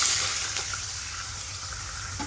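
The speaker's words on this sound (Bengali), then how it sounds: "দিচ্ছি জল" Water pours steadily into a pan of fried potatoes, a continuous hissing gush that stays fairly loud across the whole short moment with no voices.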